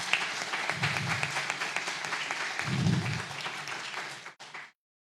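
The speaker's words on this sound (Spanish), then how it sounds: "un aplauso para todas y todos nosotros" Audience applause at a commemoration event, sustained clapping with low murmuring voices underneath, swelling slightly before cutting off abruptly after about four and a half seconds.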